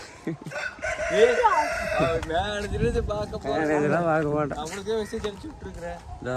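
Chickens cluck and a rooster crows repeatedly nearby at a village poultry farm, a busy flock filling the air while people talk over the birds.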